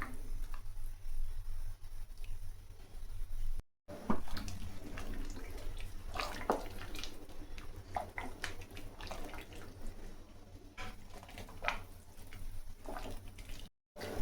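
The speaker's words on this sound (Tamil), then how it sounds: "நல்லா கொதிக்குது" Liquid bubbles in a pot close by, a quiet continuous simmer with scattered gurgles and small pops.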